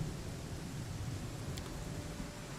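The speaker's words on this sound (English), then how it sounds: "It's bloody raining heavily." Heavy rain in Pathfinder: Kingmaker, a soft steady hiss of falling water with a faint low rumble underneath, continuous and quiet throughout.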